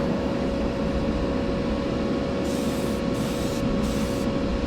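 Spray gun laying down Spectra Flame candy paint on a custom Beetle, a steady hiss of spraying in bursts over a constant compressor-like drone, close and without talk.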